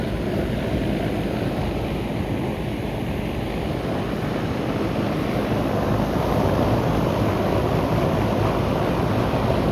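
A 2002 Goodman CKL air conditioner condenser unit running outdoors, producing a loud, steady broadband whoosh of fan and compressor noise that holds constant throughout with no talking.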